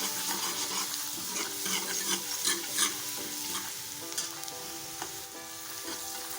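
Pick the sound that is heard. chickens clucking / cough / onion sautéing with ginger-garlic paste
onion sautéing with ginger-garlic paste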